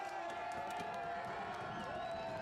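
A rugby crowd at an Old Blue versus NYAC match roars and cheers for a player entering the game, a broad continuous swell with some clapping, heard under steady commentary talk.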